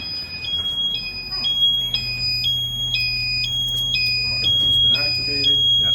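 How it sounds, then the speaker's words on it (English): A Cancom Security fire alarm panel sounds after activation: loud, repeating electronic alarm beeps alternate between two pitches in a steady pattern over a constant low hum. "So go ahead, acknowledge the alarm."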